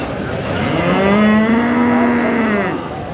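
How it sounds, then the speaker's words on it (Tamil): A single long, close moo from cattle at a weekly livestock market in Kundadam, Tamil Nadu, loud and clear with no speech over it. "இங்கே பாருங்க எத்தனை மாடுகள் வாங்கி கட்டியிருக்காங்க."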